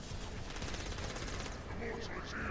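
Shotgun blasts in the co-op action game Saints Row IV: Gat out of Hell, a dense run of loud gunfire over game noise, with a voice talking partway through.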